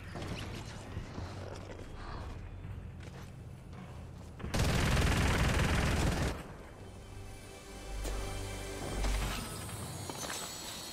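Gunfire in the Fortnite video game, a dense burst of shots that fills the middle stretch, with lighter mechanical clatter and distant shots around it, and no voices.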